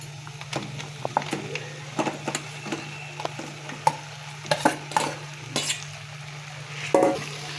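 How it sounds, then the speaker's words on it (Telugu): Chicken frying in a pan for an Andhra-style chicken fry, a steady low sizzle under repeated scraping and knocking strokes of a stirring spoon, close and moderately loud, with a low hum running beneath. "బాగా ఫ్రై అయ్యేలాగా వేగాలి"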